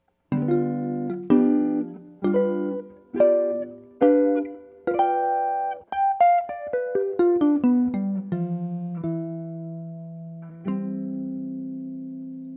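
A sequence of sustained electronic chords, each struck and held for about a second, then a descending run of notes settling onto a final held dominant chord.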